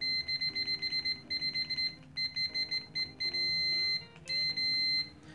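UNI-T test leads on a multimeter set to continuity give repeated short, clear electronic beeps, a rapid on-off pattern that ends in two longer sustained tones, close and alone.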